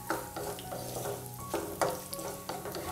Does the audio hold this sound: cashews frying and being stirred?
yes